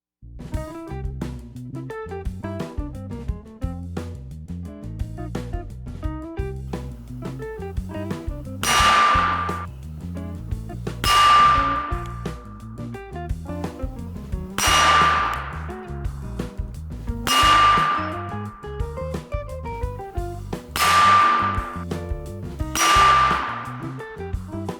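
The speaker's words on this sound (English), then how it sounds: "let's get shooting" Six sharp gunshots ring out at roughly two-second intervals, each a bright crack with a decaying ringing tail, fired at 50 yards with a red/green dot sight fitted, over steady background music.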